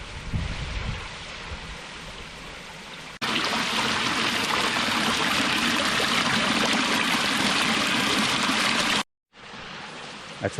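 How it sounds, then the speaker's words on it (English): Small cascading waterfall on a forest creek in Hoosier National Forest, a steady broadband rush of falling water that grows louder and fuller partway through, then cuts out briefly near the end. "That's a pretty nice cascading little waterfall."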